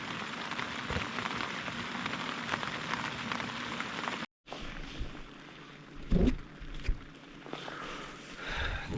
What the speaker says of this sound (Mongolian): За гадаа бод нэг юм бороо орсон. Энэ чимээгээ сонсцгоё.